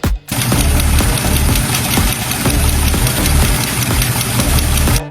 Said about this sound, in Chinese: 就是缸盖里边的这个气门摇臂损坏导致的。